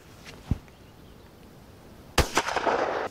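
An MP-155 shotgun fires buckshot at an outdoor range: one distant muffled report, then a loud sharp close blast with a short echoing tail.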